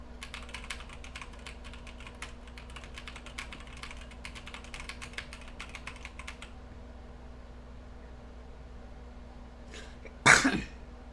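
Rapid clacking on a new stealth computer keyboard, soft and fairly close for about six seconds, then quiet, followed by a loud sneeze or cough.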